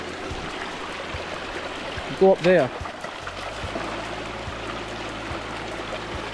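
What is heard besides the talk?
stream water flowing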